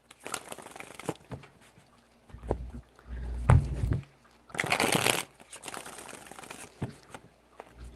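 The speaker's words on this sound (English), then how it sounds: "3 shuffles." Tarot cards are shuffled close to the microphone in three separate riffling bursts of fast crisp fluttering, with quiet handling sounds between them.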